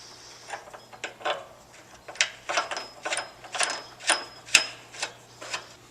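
Ratchet turning a nut onto a car body mount bolt while joining a body to its chassis, a steady series of close clicking ratchet strokes, about a dozen evenly spaced bursts, with no talking.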